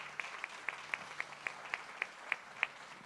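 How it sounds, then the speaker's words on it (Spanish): Sparse, quiet claps from a small church congregation, about ten distinct hand claps spaced evenly, faint against a hushed room. "te recibimos con un cariñoso aplauso"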